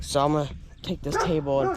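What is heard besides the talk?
dog barking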